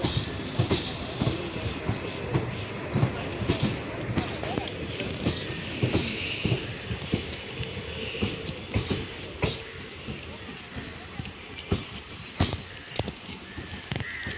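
A train moves through busy Sawantwadi railway station in Konkan, with rhythmic clatter and sharp metallic clicks over a steady rumble and general station hubbub.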